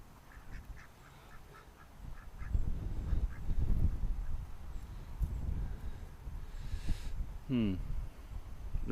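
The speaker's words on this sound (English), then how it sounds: "And the ducks have decided to come out, poke a bit in the pond now" Ducks on a pond give a few faint, scattered quacks against quiet outdoor rustling and shuffling. One clearer, nearer quack comes near the end.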